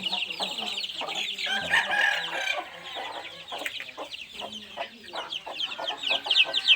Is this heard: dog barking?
no